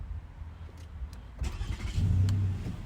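A V6 car engine is restarted: a quiet idle hum gives way to a starter crank, then a firmer, louder low rumble as the engine catches and settles into a steady idle.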